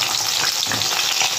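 Taro corms and potato fry in hot oil, making a loud, steady sizzle up close, with faint stirring beneath the crackle.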